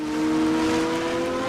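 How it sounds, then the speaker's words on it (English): A race car engine in Assetto Corsa at Le Mans holds a steady, loud droning tone, close and continuous, with no voice. "It sounds like it's revving up twice."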